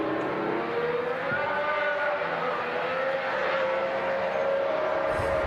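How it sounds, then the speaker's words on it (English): A Formula 1 car engine, Mercedes or Alpine, sings on track in a sustained high whine that slowly shifts in pitch as it passes at moderate distance, with no voices over it. "This sounds like very much like the 2025 car. But louder. And better."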